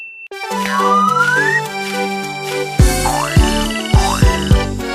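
Green frog croaks in a cartoon style, set against a bright children's song with sustained musical tones, sliding whistles and a steady bouncing beat that grows busier toward the end.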